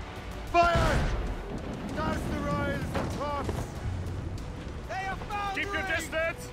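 Ship cannons firing in Assassin's Creed Rogue, with deep booms rumbling beneath a naval battle while crew voices shout over the noise.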